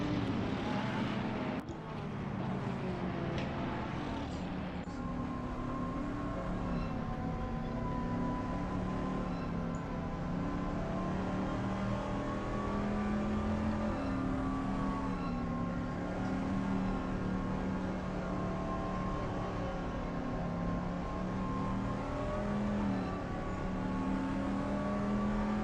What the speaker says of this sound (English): You can hear there, Nashir, I believe, is riding the brake. He's trying to get some heat into the tyres there.